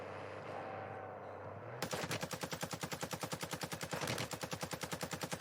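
Warzone 2 video game gunfire: a steady, rapid automatic weapon burst starts abruptly after a quiet stretch and keeps a regular fast rhythm of loud, close shots to the end.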